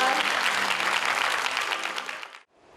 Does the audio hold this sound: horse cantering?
no